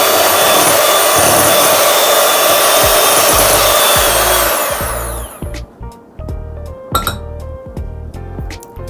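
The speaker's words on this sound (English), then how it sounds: "And you're going to mix this until it's light and creamy" An electric mixer creams a sugar mixture for a passion fruit cake with a loud, dense whir that winds down and stops, followed by scattered clinks and scrapes against the bowl.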